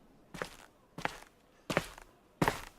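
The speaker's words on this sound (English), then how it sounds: "Footsteps." Four footsteps at a steady, unhurried pace in the Star Stable horse-riding video game, each step a distinct, fairly close thump with a short scuffing tail, separated by brief quiet gaps.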